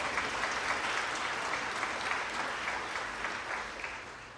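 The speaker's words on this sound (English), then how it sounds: "One more round of applause for Brittany Wren." Sustained applause from a large storytelling festival audience, steady and loud throughout, gradually tapering slightly toward the end.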